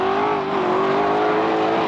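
A BMW E36 coupe at a semi-pro drift event holds a loud, steady high-revving engine note throughout, a continuous strained howl with little variation, close and unbroken.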